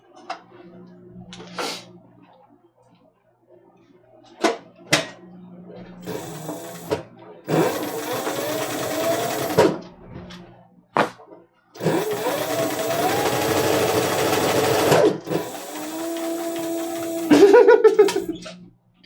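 A sewing machine runs in bursts, top stitching the outside finish of a gents' shave roll, with several loud stretches of steady whirring between pauses and people talking around it.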